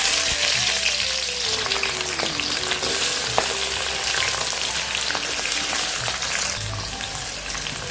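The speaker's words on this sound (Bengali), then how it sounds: "পেঁয়াজটা আমি এরকম করে একটু লাল লাল করে ভেজে নিয়েছি" Onion fries in hot oil in a wok, making a dense, rain-like crackling sizzle that stays loud and close, with occasional stirring clicks and a faint tonal whine in the background.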